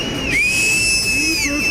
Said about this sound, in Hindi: एक चीज जो सबसे ज्यादा सुनाई दे रही थी, वो थी लोगों की तेज आवाज वाली सीटी